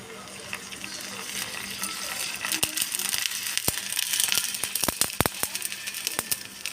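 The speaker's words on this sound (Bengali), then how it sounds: "তো দেখো এটা একবার এবার একটু ফুটতে দিতে হবে" A homemade hair oil mixture heats in a pan on a gas stove over low flame, a steady faint hiss that builds into sharp crackles and pops toward the end.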